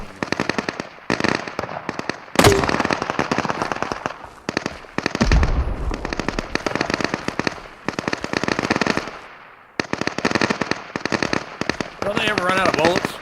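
Rapid automatic gunfire from the survival shooter Deadside, long sustained bursts with brief pauses, loud and close, with a voice talking over parts of it.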